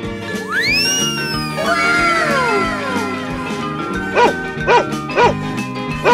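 A cartoonish dog in a children's animal-sounds game gives a run of short yips and barks, about four quick bursts near the end, layered over bright, playful music with sliding whistle-like tones.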